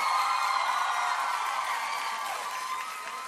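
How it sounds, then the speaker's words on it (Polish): A studio audience at a kids' singing talent show breaks into sustained applause and cheering for a 12-year-old singer, a loud continuous roar with whoops and a lingering musical tone, slowly fading. "wielkie brawa"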